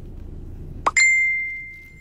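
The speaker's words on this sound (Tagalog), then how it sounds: "Ang ingay ng phone ko." A short tap followed by a single bright electronic phone notification ding that rings out and slowly fades, alone in a quiet room.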